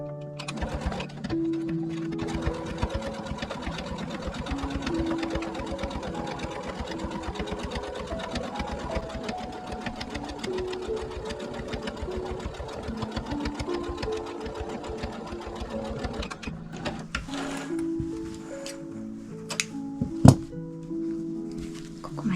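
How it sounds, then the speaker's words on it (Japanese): A sewing machine runs steadily while stitching a quilted table centre, a close, continuous mechanical whir with a fast rhythmic needle patter, easing off briefly near the end before resuming. "ここを縫っていきます。"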